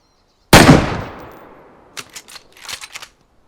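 A single sharp rifle shot in the video game DayZ cracks out loudly, its echo rolling away over about a second, followed by a few faint quick clicks.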